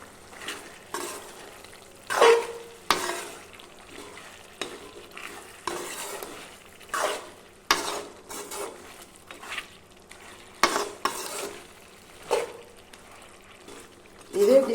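Chicken curry with green chilli and coconut sizzles in a pan while a spoon scrapes and stirs it in repeated strokes, a steady frying hiss running underneath as a person talks.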